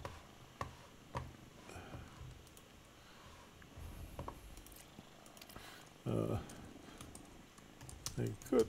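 Soft, scattered keystrokes on a computer keyboard, faint and irregular with short bursts and pauses, alongside a few louder bumps and low rustles in a quiet indoor space.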